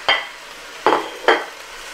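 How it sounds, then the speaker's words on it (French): Three short scraping stirs, each with a brief sizzle burst, go through tomatoes frying in a pot for an oxtail-and-peanut stew, with quiet gaps between the strokes. "On fait revenir l'ensemble pendant 5 minutes."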